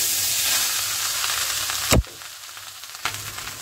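Rice tipped into hot ghee with cashews, raisins and whole spices, a loud continuous sizzle broken by a sharp stirring clatter before the frying settles to a softer hiss.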